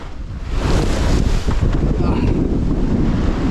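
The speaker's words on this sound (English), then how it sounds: "Oh, I didn't see that wave." A wave strikes a sailboat in rough sea, a loud surging wash blended with heavy wind buffeting the microphone that fills the whole stretch close up.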